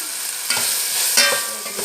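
Gobi manchurian with capsicum being stirred and fried in a pan: a loud, close, steady sizzle broken by a few scraping stir strokes, with no voices.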